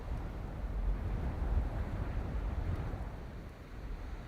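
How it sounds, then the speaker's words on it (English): Steady low rumbling wind buffets the microphone, a continuous broad roar with gentle swells and no voices. "it sounds like, again, a very windy day"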